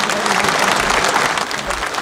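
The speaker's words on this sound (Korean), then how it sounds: "여러분, 큰 박수 부탁드립니다." Brisk audience applause at the signing of an investment agreement between Gwangju city and Hyundai Motor for a car factory, a short, loud, even burst of clapping.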